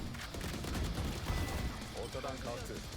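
Gunfire in the shooter game Valorant, a few quick bursts of shots under and between excited talk from players.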